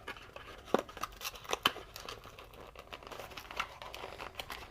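Someone opens the cardboard box of a Samsung front protection film for the Galaxy Z Fold 4 at close range, making crinkles, light tearing and a few sharp snaps.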